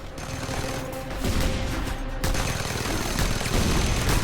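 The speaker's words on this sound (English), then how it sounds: "Mounted gun!" Heavy mounted gun in Just Cause 2 fires in a sustained barrage of rapid shots, dense and loud throughout with booming impacts, no talk over it.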